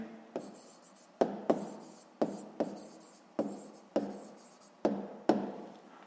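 Pencil or pen scratching out a sixth-grade math solution on paper, with short sharp strokes and taps in an irregular rhythm, close and alone without talk.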